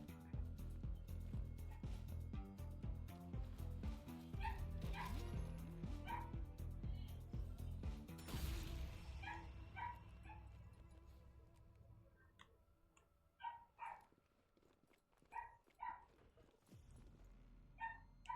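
Dogs in a video game bark and yip in repeated sharp bursts, some whimpering, over game background sound that fades partway through. The barks become sparser and more isolated later.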